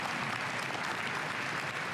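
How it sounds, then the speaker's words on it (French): An audience applauds with an even, dense patter of many hands, moderately distant and fairly faint, with no talking over it. "Public applaudissant"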